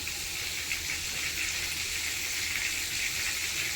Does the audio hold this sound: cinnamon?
yes